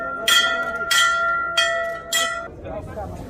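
A bell at the Ghantaghar clock tower courtyard strikes four times in a steady rhythm, each ring bright and ringing out with a lingering hum, loud and close over crowd murmur.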